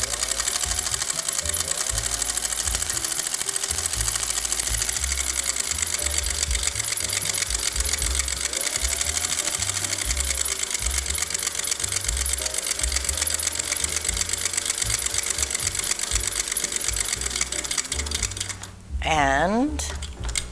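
A sewing machine stitches buttonholes one after another, its fast, steady mechanical chatter running nearly continuously and loud before a brief slowdown and pause near the end, with a quick change of pitch as it stops and restarts.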